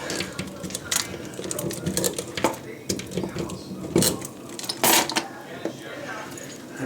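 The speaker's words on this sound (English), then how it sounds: "I'm going to go in there with my keys." A set of metal keys scrapes and clinks inside a toilet bowl to dig out a blockage that is causing low water pressure. Irregular taps and rattles sound up close, with a few sharper knocks among the quieter scratching.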